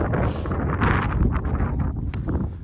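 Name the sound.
wind on Jade Dragon Snow Mountain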